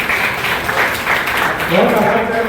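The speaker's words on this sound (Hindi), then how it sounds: "जोरदार ताली" Loud applause for a singer at a Hindustani Academy concert in Prayagraj, a continuous even wash of clapping through the short span, with a voice rising faintly near the end.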